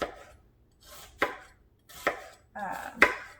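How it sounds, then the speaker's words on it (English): A knife chops an onion on a cutting board, four sharp cuts spaced unevenly, each with a brief crunchy slice, heard close and alone. "chopping my onion"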